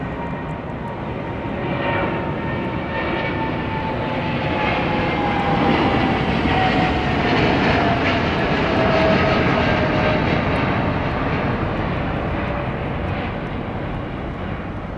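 A jet airliner departing London Heathrow Airport, a loud, sustained engine roar that builds and holds for many seconds, with a faint falling whine threading through the rumble.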